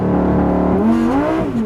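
A 2023 Lamborghini Huracan Tecnica with its 5.2-liter naturally aspirated V10 holds a loud, steady launch-control rev that rises sharply into a hard, rising roar as the race start begins, close and with no speech.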